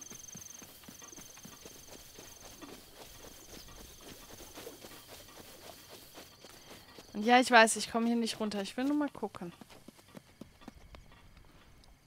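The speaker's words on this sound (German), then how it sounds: "Oh, da sind Pferde." Horses walking in Zelda: Breath of the Wild, a soft steady clip-clop of hooves heard under someone talking, with insect chirps in the background.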